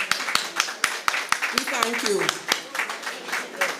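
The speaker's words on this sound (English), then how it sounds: "Stand and give a round of applause." An audience at a memorial emancipation lecture claps in a standing round of applause, rhythmic claps ringing out beneath a voice speaking over them.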